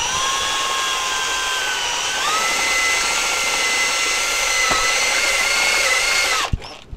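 A power drill with a step bit cuts through a spoon, making a steady high whine with shifting pitch for several seconds before it stops abruptly with a clunk.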